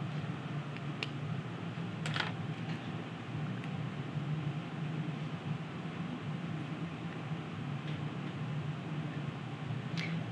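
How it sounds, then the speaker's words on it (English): A calculator keypad is pressed in a few sparse, faint clicks spread through a steady background hum, with no talking. "this is what I'm typing into my calculator"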